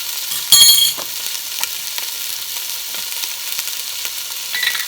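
Italian sausage browns in a soup pot, giving a steady close sizzle and crackle with a brief louder scrape of stirring near the start, and no talk.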